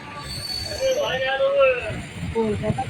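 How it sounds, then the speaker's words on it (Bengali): An express train pulls slowly out of Bardhaman Junction station, its wheels squealing in a high drawn-out tone over steady rumbling rail noise, with crowd babble nearby throughout. "ট্রেন এখন ধীরে ধীরে বর্ধমান জংশন স্টেশন ছেড়ে পুরোপুরি বেরিয়ে যাচ্ছে"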